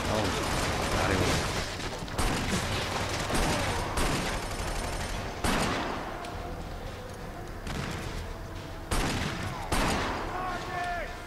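Heavy shotgun blasts in Killzone 2 on Elite difficulty, booming every second or two through a dense, loud wash of battle noise and mechanical clatter.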